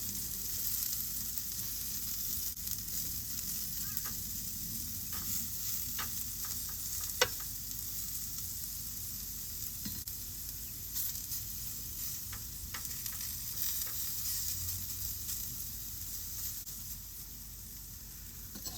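Food sizzles and hisses steadily in a pan inside a campervan, a continuous fizzing fry broken by occasional small clicks and stirring scrapes.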